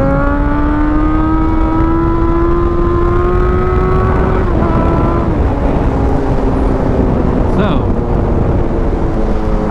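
A Yamaha FZ8 motorcycle engine revs loudly nearby. The tone climbs steadily, drops briefly, then builds again over several seconds, with a continuous rumbling buzz underneath.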